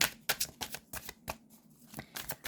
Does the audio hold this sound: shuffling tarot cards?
yes